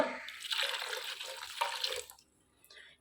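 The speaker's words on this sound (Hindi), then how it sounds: "तो अब मैं इसके अंदर 3 कप जितना पानी डालूँगी," About three cups of water pour into moong and masoor dal in a kitchen, a soft splashing stream for around two seconds that then trails off into quiet.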